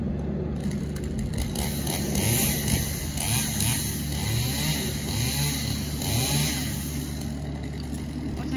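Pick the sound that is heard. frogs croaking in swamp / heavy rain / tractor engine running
tractor engine running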